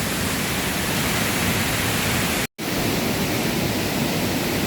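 A waterfall on Doi Inthanon near Chiang Mai, Thailand, heard from the top, gives a loud, dense, steady rush of falling water, briefly cut off midway.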